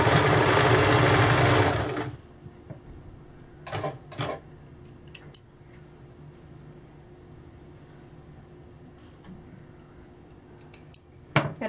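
A sewing machine stitches piping onto a simple-pattern blouse using a normal presser foot: a loud, steady whir for about two seconds, then stops, followed by faint handling clicks and rustles.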